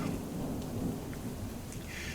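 Steady rain falls on a dusk trail, with low thunder rumbling underneath, forming a continuous wash of sound throughout, loud and unbroken, with no voices.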